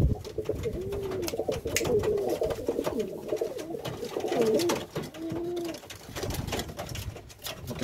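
Pigeons with a territorial, aggressive temperament coo repeatedly in a loft, the soft throaty coos overlapping in a steady run at close range against some background rustling.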